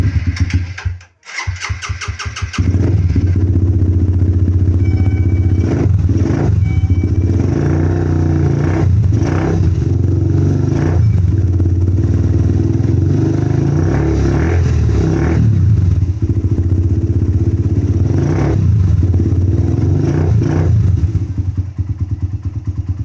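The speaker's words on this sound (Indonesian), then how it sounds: "saya akan cek sound motor saya ini" A motorcycle engine starts after a few clunks, then runs loudly up close, its note surging upward in several revs before settling back to idle.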